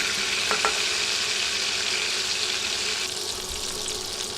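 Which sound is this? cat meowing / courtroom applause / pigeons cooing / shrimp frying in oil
shrimp frying in oil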